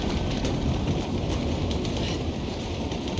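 A train rumbles along the rails in the action game Uncharted: The Lost Legacy, a dense, steady roar with wind rush and faint clatter, close and loud with no talk.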